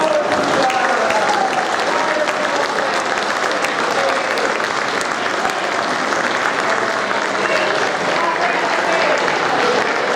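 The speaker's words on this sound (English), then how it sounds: "Give them a round of applause." An audience at an eighth grade awards ceremony applauds students standing for honors, a dense, steady wash of many hands clapping that fills the room for about ten seconds.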